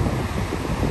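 Ocean waves at San Diego beach in El Salvador wash ashore at low tide, making a loud, continuous roar of surf mixed with strong wind buffeting the microphone.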